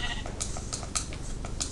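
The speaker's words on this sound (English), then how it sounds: "Ooh, another sheep." Sheep bleat in a Minecraft survival game, several short, thin calls spaced irregularly and set quietly under a voice talking over the game.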